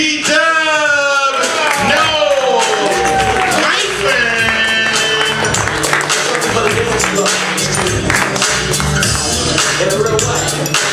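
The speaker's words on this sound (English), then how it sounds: "make some noise for the very funny Mr. Peter!" A comedy club audience cheers and applauds for a comedian at a Saturday night show, with loud sustained clapping, whoops and shouting voices filling the room throughout.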